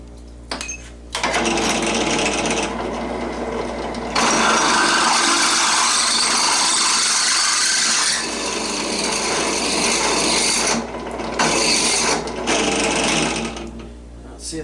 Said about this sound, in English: Alright, we gotta drill this out.